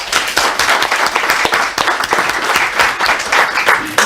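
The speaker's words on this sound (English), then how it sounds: "Let's give him a round of applause." Loud, sustained applause from a crowd, dense and steady clapping throughout with occasional sharper claps standing out.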